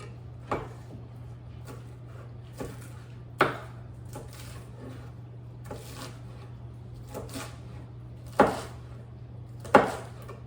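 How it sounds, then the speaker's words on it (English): Lettuce is chopped with a knife on a cutting board in a home kitchen during gluten-free meal prep: sparse, irregular thuds and taps, a few sharper strikes, over a steady low hum with no talking. "Lettuce is all chopped."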